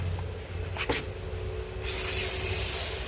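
A hand-held sprayer mists water onto oyster mushrooms, a steady hiss that starts partway through and then continues unbroken and fairly loud, after a couple of brief knocks.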